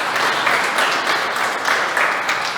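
Worshippers in a Spanish-speaking church break into applause, a full, continuous round of many hands clapping close and fairly loud, without any voices over it.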